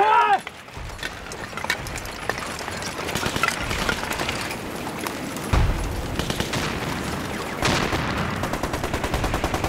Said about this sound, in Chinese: 听见没有？ 枪声，战斗没有结束